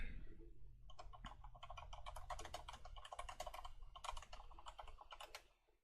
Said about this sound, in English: getting faster at typing